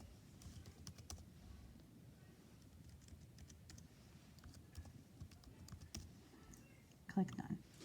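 Soft, rapid keystrokes on a computer keyboard patter quietly in bursts under a person's voice, with a louder clack near the end.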